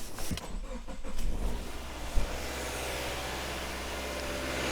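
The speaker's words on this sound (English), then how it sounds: "now we are going to start the car" A car engine cranks and catches, then settles into a steady idle with a low continuous rumble, heard up close without talking.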